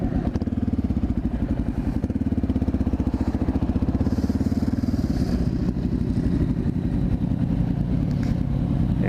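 A Honda XR650L dirt bike rides steadily alongside street motorcycles, a continuous loud, throbbing engine drone with rapid pulsing and wind noise, no talk.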